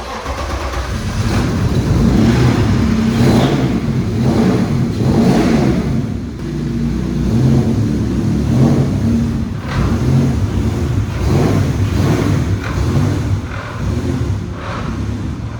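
BMW E36 car being moved in a workshop, its engine revving in repeated rising bursts over a steady idle, loud and close throughout with no talk.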